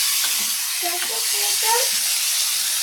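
Spices for an oggarane tempering sizzle in hot oil with a steady, bright hiss, close and continuous, while voices talk faintly underneath.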